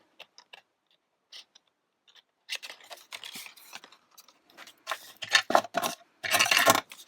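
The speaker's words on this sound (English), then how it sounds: "I will do it with scissors" Scissors snip through paper card in a quiet craft setting, a few faint sparse snips at first, then denser, louder cutting bursts toward the end.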